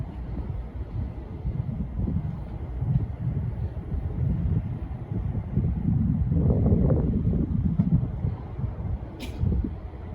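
Wind gusts across flat open land between Santa Fe and El Paso, a steady low rumble buffeting the microphone for the full stretch, swelling slightly midway, with no voices.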